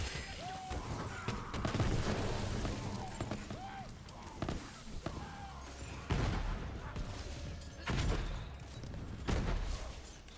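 Gunfire and grenade explosions in the video game Borderlands 3, repeated shots and heavy booms in quick succession, moderately loud, with someone talking over the action.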